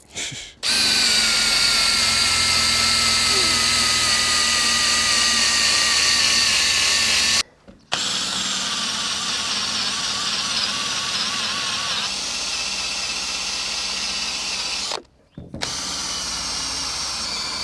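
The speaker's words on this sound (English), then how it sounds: "Drill's definitely dying." A close electric drill whines in long continuous runs, its pitch sagging as the motor slows and the dying drill runs down, broken by two brief pauses.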